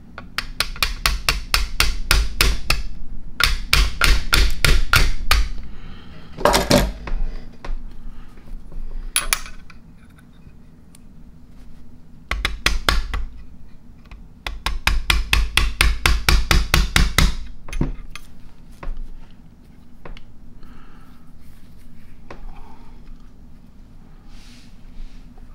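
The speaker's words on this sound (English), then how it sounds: "I promise you're probably going to have to tap it with a hammer to get that up all the way." Sharp metallic hammer taps drive a pin into a Ruger Mark III .22 LR pistol receiver, coming in several rapid bursts of many close, loud strikes separated by brief pauses, with a few isolated single taps between.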